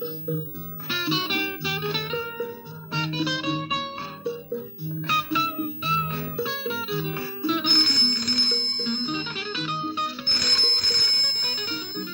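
A phone ringtone plays a bright, repeating electronic melody, loud and close, continuing steadily with no voices.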